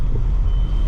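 A car engine running on E20 petrol revs briefly, a loud, steady low rumble held close for under a second with no voices.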